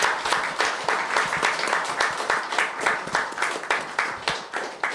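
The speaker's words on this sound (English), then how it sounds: "I need applause." Audience applause at a symposium marking the 40th anniversary of a Buddhist monk's passing, with foreign disciples attending; steady clapping with distinct individual claps, moderately close and lasting throughout.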